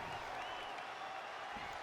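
Wrestling arena crowd roaring and applauding as a steady, dense wash of noise throughout.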